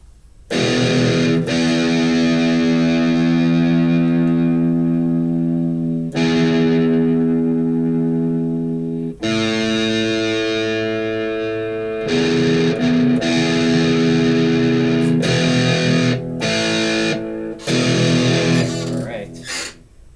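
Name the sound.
electric guitar played through a distortion effect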